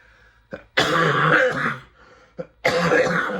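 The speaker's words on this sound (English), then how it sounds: "diagnose that cough" Two loud, harsh coughing bursts close to the mic, the first longer and rasping, the second following after a short pause.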